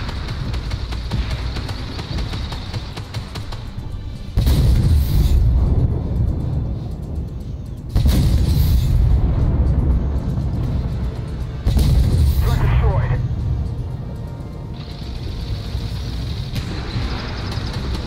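A tank's main gun fires three heavy booming blasts, several seconds apart, in the Armored Warfare video game. Each loud shot stands out over a steady low engine rumble.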